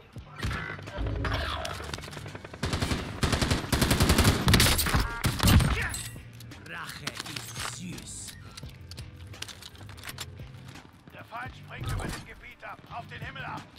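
Gunfire from the Warzone video game, fired from a rooftop, crackles in dense rapid bursts that peak early, then continues in scattered shots as players talk over it.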